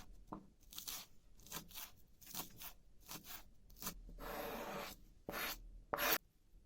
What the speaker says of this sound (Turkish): Taze sarımsaklarımı doğruyorum. Küçük küçük doğruyorum.